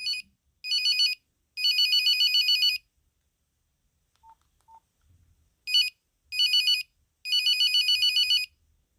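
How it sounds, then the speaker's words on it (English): An old-school Nokia 5165 cellphone from 1998 plays its Polite ringtone: two rounds of bright electronic beeps, each a short burst, then a medium burst, then a long run of rapid pulses, loud and close with quiet gaps between. "Let's compare the Nokia 5165 from 1998 and the ringtone called"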